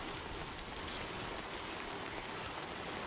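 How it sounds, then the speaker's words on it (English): Steady heavy rain in a video game falls in an even, constant hiss with fine droplet texture, quiet and unbroken throughout, with no voices. "Granted, I also didn't know I'd be dealing with a butt ton of rain."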